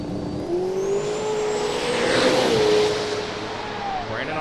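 A turbocharged Fox body drag race car makes a pass at a drag strip, its engine note climbing and holding as it runs down the track, heard at a distance over crowd and track ambience.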